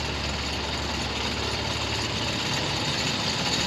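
F-100 Super Sabre jet engine starting up, giving a steady, dense roar with a constant whine; any blade rattling is buried in the continuous noise.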